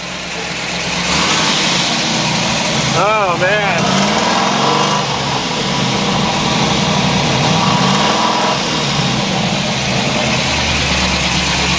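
A 1969 COPO Camaro with its original-block 427 V8 rumbles nearby and is revved a few times, rising and falling over a steady idle, with a person speaking briefly over it.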